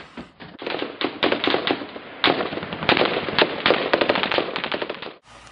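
Rapid, loud bursts of automatic rifle and machine-gun fire crackle in an uneven, overlapping volley during a firefight in Afghanistan, with sharp close reports repeating for several seconds.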